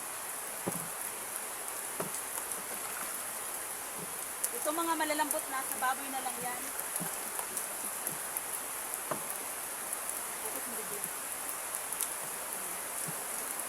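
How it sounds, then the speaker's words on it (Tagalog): Heavy rain pours steadily in the open during a mango harvest, a broad constant hiss with scattered drops, and people talk now and then under it. "Ang lakas ng ulan."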